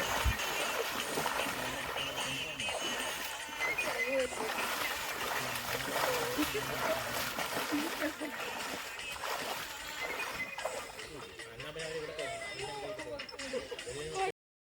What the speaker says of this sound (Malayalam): ഇതാണ് നമ്മുടെ വെളിയത്തെ തോട്